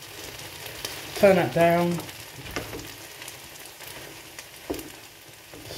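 Paella ingredients with freshly added garlic fry and get stirred in a pan, giving a soft, low sizzle with a few scraping stirs; a voice briefly speaks over it.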